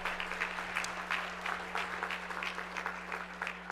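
Audience applause at a large international business gathering in St. Louis, a continuous patter of many hands, fairly distant and faint over a steady low electrical hum.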